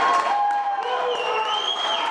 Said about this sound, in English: Second Amendment advocates cheering seconds after that vote